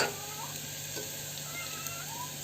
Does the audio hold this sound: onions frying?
yes